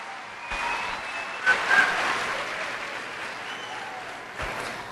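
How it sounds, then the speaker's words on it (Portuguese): A church congregation applauds to welcome the pastor, with broad, steady clapping from many hands filling the space, continuous and moderately loud throughout. "Vamos receber o pastor Marcelo com a salva de palmas."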